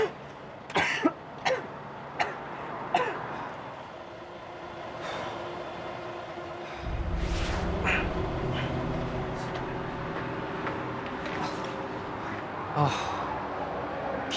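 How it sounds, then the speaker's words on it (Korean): A person coughs several times in short, sharp bursts early on, then a steady low rumble like a passing train takes over with a faint cough near the end. "기침이 멈추질 않네."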